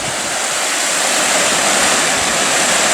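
Small mountain torrent in the Dévoluy mountains of France, rushing water making a loud, steady, close broadband roar that fills the whole stretch without a break, with no talking.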